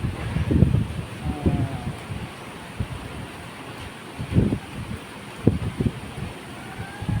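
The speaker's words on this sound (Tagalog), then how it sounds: "grabing hangin na" Gusty wind by the seashore roars against the microphone in uneven bursts, with low rumbling buffets rising and falling throughout.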